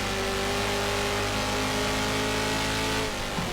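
BMW straight-six racing engine with 12 valves, two per cylinder, at sustained high revs in the GTR2 racing game, a loud, steady, even drone with a slight pitch change near the end.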